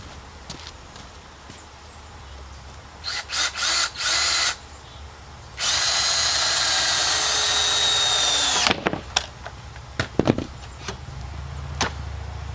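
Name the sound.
power drill driving screws into wooden picnic table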